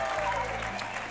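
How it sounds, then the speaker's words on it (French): A French TV game show studio audience bursts into applause, a steady dense wash of clapping that holds at even strength for about a second. "moi je voulais juste que l'on applaudisse nos deux beautés"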